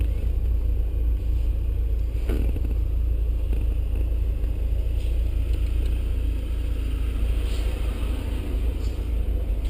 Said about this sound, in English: now the car will idle and go forward